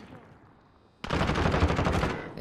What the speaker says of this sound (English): he appeared and started shooting